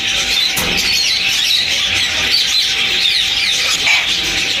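Many caged birds chirp and squawk together at a Sunday bird market in Bahawalpur, a dense, steady wash of high calls with a few sharper squeals rising out of the crowd noise.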